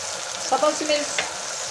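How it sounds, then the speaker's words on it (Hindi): Garlic-ginger paste, tomato and green chilli masala sizzle in a pan for restaurant-style chana dal, a soft close frying hiss with brief stirring scrapes and small pops, no talking. "मसाले को अच्छी तरह से भून लेंगे।"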